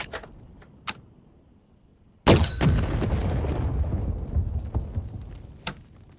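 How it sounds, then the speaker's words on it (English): A bazooka fires in the video game Medal of Honor: Above and Beyond, one sudden loud blast followed by a long rumbling roar and debris, after a couple of sharp clicks. "While the bazooka is too big to holster, it packs quite a punch."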